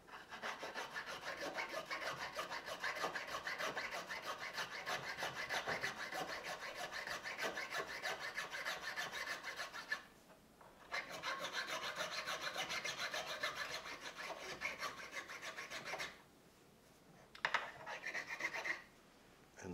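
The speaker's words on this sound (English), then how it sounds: "Tool of choice. Miniature half size rasp." Miniature half-size rasp filing, a dry and steady scraping of rapid back-and-forth strokes heard close up, broken by a few short pauses near the end, with no talking.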